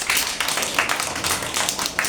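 Children in an Anganwadi preschool class clapping for a classmate, a quick burst of several light, rapid claps close by, fairly loud and continuous for a couple of seconds with no talking.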